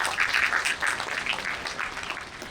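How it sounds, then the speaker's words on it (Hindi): An audience at an inspirational talk series at Arya College claps for a top-ranked student, a continuous moderately loud patter of many hands with no talk over it. "तालियां तो होनी चाहिए ना।"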